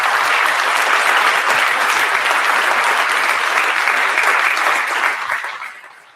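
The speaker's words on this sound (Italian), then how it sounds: "Io credo che possiamo dedicare questo applauso a questi nostri giovani che onorano l'Italia in giro per il mondo" An audience applauding, dense and steady at close range, then fading out over the last second.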